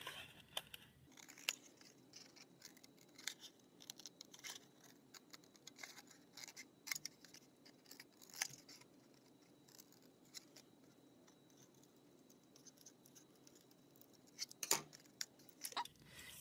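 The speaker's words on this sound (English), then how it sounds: "I'm only cutting off this white part along the top edge of my city." Scissors snip through a thin styrofoam printmaking sheet in short, crisp cuts with faint crinkling, close but quiet, spread unevenly with a small flurry near the end.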